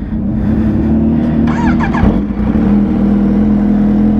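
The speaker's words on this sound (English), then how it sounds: "let me let you get a sound of this exhaust." A Kawasaki Ninja H2 sport motorcycle with a Brock's full exhaust rumbles steadily at idle, then briefly revs up and settles back to a loud, even drone.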